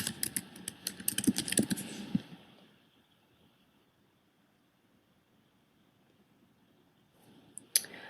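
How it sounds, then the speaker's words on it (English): A name typed on a computer keyboard during web development work: a quick burst of close, crisp keystrokes for about two seconds, then near silence with a faint click at the end. "Let me type in my name."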